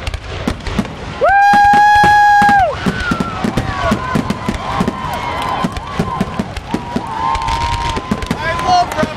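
Rapid-fire fireworks crackle in a fast burst of sharp pops and bangs, with a loud sustained whistling tone near the start and people talking and cheering throughout.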